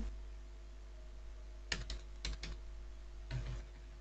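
Someone types an email address on a computer keyboard: a few short bursts of quick, light key clicks separated by pauses, heard close and faint over a low steady hum.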